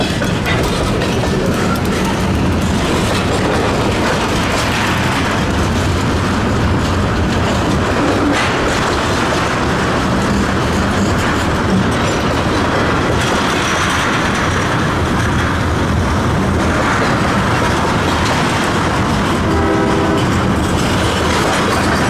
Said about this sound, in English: a pair of SW1500s were taking the evening switch job back to the port.